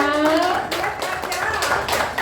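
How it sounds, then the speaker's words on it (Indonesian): A short burst of scattered hand clapping at a marketing-plan seminar for a bonus announcement, several quick claps close by with faint talk around them. "Tepuk tangan dong bonusnya"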